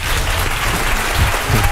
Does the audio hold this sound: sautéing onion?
no